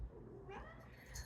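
A cat gives a short, chirpy meow up close, a quick rising call over a quiet room.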